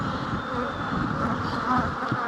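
Honey bees humming in a dense, steady drone at an opened beehive during a spring hive reversal, close and continuous with no talking.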